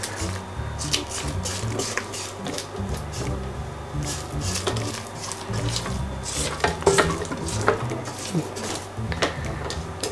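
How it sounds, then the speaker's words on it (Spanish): A spatula stirs carrot and apple cake batter in a bowl, producing soft, continuous scraping and wet folding sounds with scattered clicks against the bowl, under quiet talk. "Y ahora mezclamos despacio."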